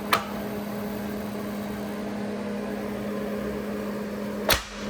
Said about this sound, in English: you hear that snap? That means the film has completely went down